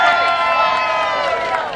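A crowd at a competitive water-entry event cheers loudly for a contestant called the post-apocalyptic cockroach, many raised voices blending into one sustained, close roar.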